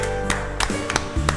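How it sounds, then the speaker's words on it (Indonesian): Children clap their hands for Jesus at an online Sunday children's worship service, four sharp claps landing in a steady, even beat over background music. "Kakak minta semua tepuk tangan dong buat Tuhan Yesus adik-adik"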